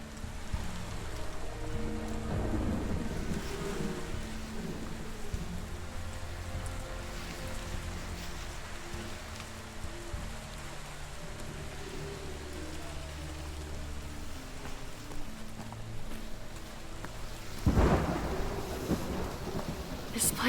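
A thunderstorm in the Westworld Awakening VR game brings steady heavy rain and low rolling rumbles of thunder that continue throughout, with a sharp, louder crack of thunder near the end.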